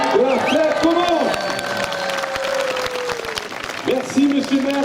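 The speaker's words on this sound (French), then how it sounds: "encore vos applaudissements s'il vous plaît, tous vos applaudissements pour ouvrir officiellement donc cette édition 2016" Crowd applause at the opening of the 2016 Lavandou flower parade on the Côte d'Azur, steady clapping and cheering throughout, with an amplified announcer's voice speaking over it.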